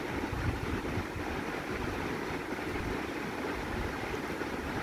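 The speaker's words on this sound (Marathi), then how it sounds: "आता ती थोडं कप धुवून साईडला करते." Tea cups rinsed under running water in a home kitchen: a steady, even hiss of flowing water with no talking.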